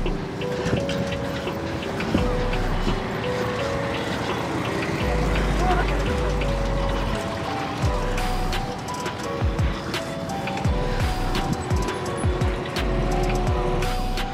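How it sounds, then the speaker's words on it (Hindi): Heavy road traffic on a city street during the Holi holidays, heard from a delivery rider's bicycle, with a steady mix of car, truck and bus engines, low rumbles and scattered horn-like tones. Someone talks continuously over the traffic. "तो भाई काफ़ी ज़्यादा ट्रैफिक है देखो आज"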